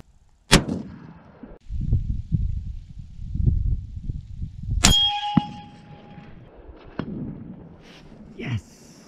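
A Remington 700 PCR rifle in 6.5 Creedmoor fires at a steel target 350 meters away. Two loud, sharp shots ring out; the second is followed by a clear metallic ring from the steel, with a few fainter clanks afterward.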